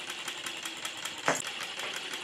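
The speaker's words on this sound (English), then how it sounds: "Just an amazing running little engine" A StirlingKit B02 hit-and-miss engine runs steadily nearby, its quick, even mechanical beat repeating throughout, with one sharper louder knock partway through.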